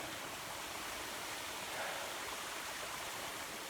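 A waterfall and stream rush in a steady, dense roar of flowing water, close and constant throughout with no voices.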